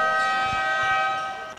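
A basketball game-clock buzzer at a college game blares as one loud, sustained electronic tone, with faint crowd noise beneath it.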